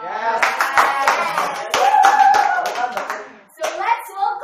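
Audience applause and hand clapping greet a fashion blogger from Hollywood as he is welcomed on stage, steady clapping for about three seconds before briefly dropping and resuming, with faint voices mixed in.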